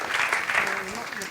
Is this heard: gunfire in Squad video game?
no